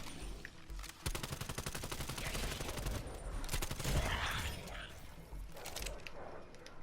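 An AS-VAL rifle fires in Call of Duty Cold War Zombies, sustained rapid automatic bursts with sharp repeated cracks and brief pauses between strings, close and loud amid game effects, with a voice talking faintly underneath.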